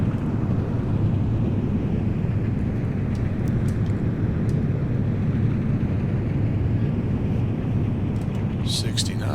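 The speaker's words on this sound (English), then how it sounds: "Reversers engaged." An L-1011 airliner's thrust reversers roar on landing in the Prepar3D flight simulator, a steady, loud, broad rushing rumble that holds for several seconds with a few faint clicks on top.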